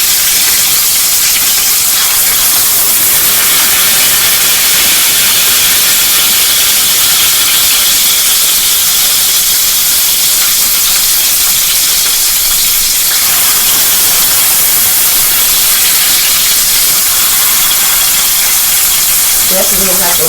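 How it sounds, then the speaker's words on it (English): Sausage frying in grease on a stovetop gives a loud, continuous hissing sizzle with scattered pops, steady throughout with no pauses. "Got grease popping everywhere."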